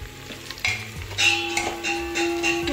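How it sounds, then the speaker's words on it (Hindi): Onions frying and being stirred in a pan for Lucknowi biryani, a steady close sizzle with scraping stir strokes, alone without talk. "प्याज फ्राई"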